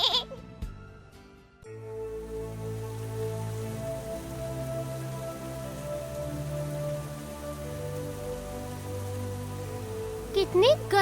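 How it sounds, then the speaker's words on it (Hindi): Cartoon rain patters steadily behind a sustained musical score, with a few sharp accents at the start and a brief squeaky flourish near the end; no one speaks. "कितने गलत दिन पर बारिश हो रही है।"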